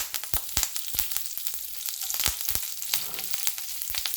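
Curry leaves drop into urad dal frying in hot oil, setting off close, crackling sizzles with sharp pops scattered throughout.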